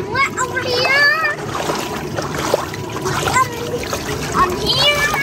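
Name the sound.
toy monster truck splashing into water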